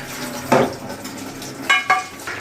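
A small splash of broth is poured into a tengra fish and eggplant curry cooking in a pot, giving a few short sizzling bursts with light clinks of utensils, close and moderately loud.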